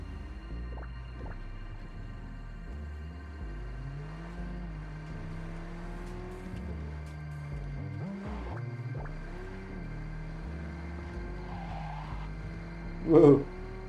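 A car driving in the video game Cyberpunk 2077 on PC, a low engine hum shifting pitch as it speeds up and slows, with a brief louder burst near the end.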